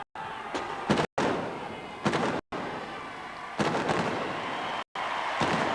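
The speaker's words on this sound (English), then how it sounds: "The guns are taken to their firing position and they prepare to fire 3 rounds." Royal Navy field guns fire three rounds at a 1987 field gun competition, a series of sharp, loud booming blasts with crowd noise rolling between them.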